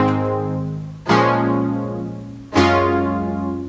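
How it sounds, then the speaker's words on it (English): Juno 6 emulator synth plugin playing a chorus part: two sustained polyphonic chords struck about a second and a half apart, each with a bright attack that mellows into a steady, warm pad, loud and alone with no voices. "This is like a Juno 6 emulator."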